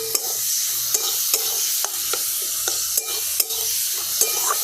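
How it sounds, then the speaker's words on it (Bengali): Tomatoes, ginger, garlic and green chillies frying with a spoonful of soy sauce in a pan, a steady sizzle broken by regular sharp scrapes and clacks of a spoon stirring, close and alone. "টমেটো আর আদা রসুন কাঁচা লঙ্কা আমি সব ভেজে নামিয়ে নিয়েছি।"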